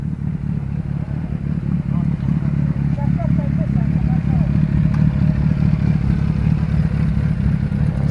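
A KTM Duke motorcycle engine gives a steady, mid-level rumbling drone that runs continuously without a distinct rise or fade, heard amid a group motorcycle club ride.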